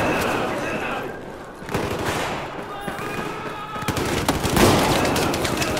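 Shotgun blasts in Battlefield 4 combat, with several sharp cracks and booms scattered over dense battlefield noise and a few other shots.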